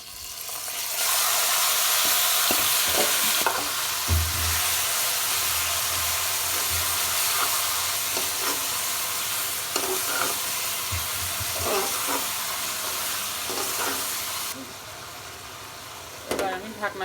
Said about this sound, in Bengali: পেঁয়াজ রসুন ভাজা হয়ে গেছে, এবার আমি গোশটা ঢেলে দেব।